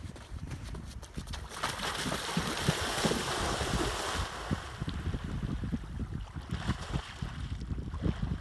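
Splash into a swimming pool outdoors, a burst of churning water followed by sloshing and lapping that settles into softer splashes, fairly close and moderately loud.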